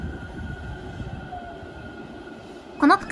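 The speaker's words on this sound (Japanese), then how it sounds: "ようやく上りの停車列車がやってきました。" An up-line stopping train pulling into Toyohashi Station on the shared Iida Line and Meitetsu section, a steady low rumble of rolling cars followed by a short, sharp tonal burst near the end.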